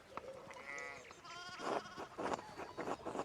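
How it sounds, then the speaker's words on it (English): Sheep in the video game Pentiment bleat several times in quick, wavering cries on a road, clear and fairly near, followed by rougher, broken bleats. "we need to get these sheep under control"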